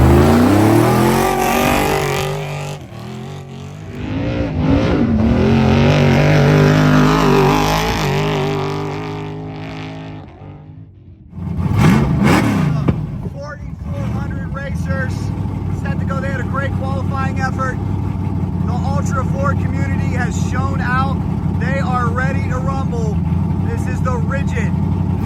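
Unlimited trophy truck number 48 blasting off at the start of the Vegas to Reno desert race in Crystal, Nevada: a loud revving engine drops away, then roars hard off the line and keeps growling, with a voice talking over parts of it.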